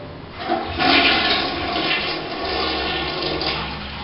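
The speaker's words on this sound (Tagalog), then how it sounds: "First step for the toilet bowl cleaning is flush the toilet." A toilet flushes in a bathroom being cleaned, a steady rushing gush of water that swells after half a second and keeps draining loudly to the end, with no voices.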